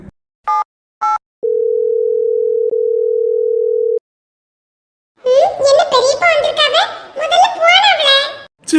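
Two short telephone beeps, then a steady unanswered ringing tone lasting a few seconds, a phone call to a painter that goes unpicked, followed by lively nearby voices of adults and someone talking and laughing.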